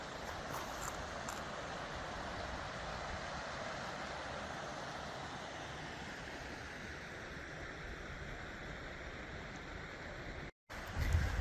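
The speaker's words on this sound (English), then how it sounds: "you can see and hear the creek below. Got a pretty healthy flow." Water in a creek flows steadily through Ice Box Canyon in Red Rock Canyon, Nevada, heard as a faint, even rushing wash from below with light wind, continuous and unbroken until a brief dropout near the end.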